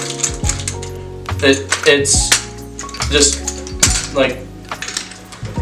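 Drill rifle without a sling clip, rattling and clacking in a series of sharp metallic knocks and rattles during handling, close and fairly loud, with brief speech over part of it.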